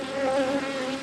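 Honey bees drone around an open hive while supers are being added, a steady close buzzing hum with slight wavering in pitch, no voices.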